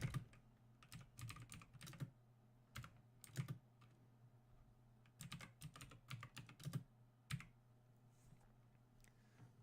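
Typing on a computer keyboard while building a Docker image in a terminal: bursts of quick, close key clicks in uneven clusters over a steady low hum, no talk.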